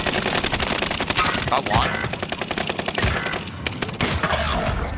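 Rapid bursts of Call of Duty: Modern Warfare gunfire crackle close and loud in dense, repeated volleys, with a player's voice talking briefly over the shooting.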